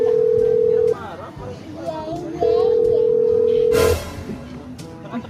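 A telephone call being placed: a steady electronic ring tone sounds twice in long even bursts with a pause between, while voices, including a child's, murmur faintly around it.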